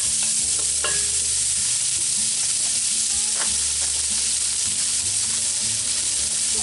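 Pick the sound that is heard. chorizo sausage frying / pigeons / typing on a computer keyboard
chorizo sausage frying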